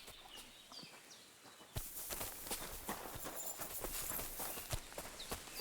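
Horse hooves clip-clopping in Kingdom Come: Deliverance II, a steady run of near, moderately loud hoofbeats over faint ambient bird and farmyard sounds, growing denser partway through.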